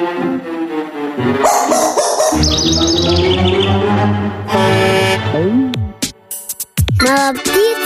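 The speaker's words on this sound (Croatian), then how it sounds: "Mala ptica želi da budeš tiho, Lula." A little cartoon bird chirps in short bright tweets, mixed with playful music and other cartoon sound effects in the Pocoyo animated series.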